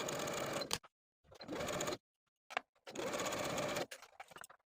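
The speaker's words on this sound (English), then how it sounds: "And then sew the midriff to the bottom of the bodice all the way around with a 5/8 inch seam" A sewing machine runs in three short, rapid bursts, separated by silences and a few small clicks, as a dress midriff is sewn to the bottom of the bodice; the close whirring carries no speech.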